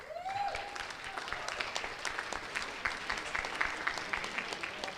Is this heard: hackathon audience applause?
yes